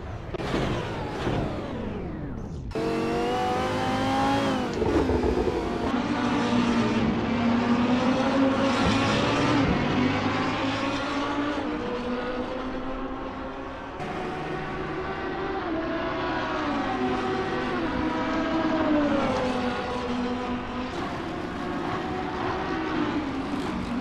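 Race car engine in Gran Turismo at Silverstone, loud and close, revving up through the gears. Rising whines are broken by a sharp shift near the start and another dip midway before climbing again.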